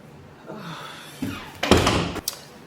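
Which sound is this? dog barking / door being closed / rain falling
door being closed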